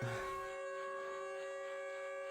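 A video game siren: a sustained, droning tone with layered steady pitches, faint and distant-sounding, holding unbroken after a brief rough onset.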